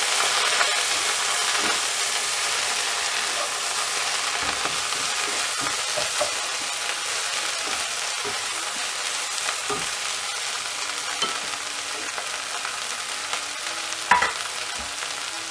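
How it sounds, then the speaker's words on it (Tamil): Mint leaves frying with curry leaves in hot oil for a Tamil mint chutney (pudina thogayal), a steady close sizzle with occasional stirring scrapes throughout, no talking. "புதினா ஆட் பண்ணிட்டு இத நல்லா ஃப்ரை பண்ணிடணும்"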